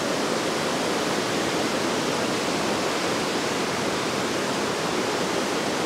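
A river near a campsite in Norway by the Jostedalsbreen glacier rushes in a steady, dense hiss of flowing water, close and constant throughout with no other sounds.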